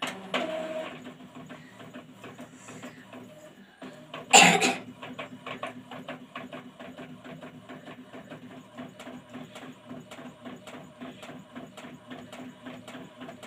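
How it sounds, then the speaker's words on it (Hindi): An Epson printer feeds and prints a sheet of transparency paper, giving a steady run of rapid mechanical clicks and ticks after a loud burst of motor noise as the sheet is pulled in, fairly close and with no talk. "हम इसे प्रिंटर में डाल देते हैं और इसे हम प्रिंट करके निकालेंगे"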